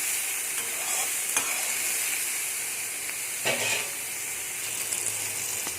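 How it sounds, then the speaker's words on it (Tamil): Half-boiled cauliflower florets frying in oil in a pan for a South Indian cauliflower fry, giving a steady, dense sizzle with a few soft scrapes and knocks from a stirring ladle, close and even throughout. "நல்லா கொஞ்சம் ஆயில் போட்டு இந்த மாதிரி கரண்டி எடுத்துக்கிட்டோன்னா உடையாது."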